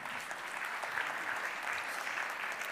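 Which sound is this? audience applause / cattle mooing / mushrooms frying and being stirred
audience applause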